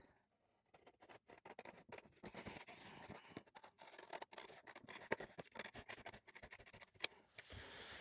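Scissors cutting a paper journaling page, a quiet close run of quick snipping and rustling strokes in an irregular rhythm, with no talking.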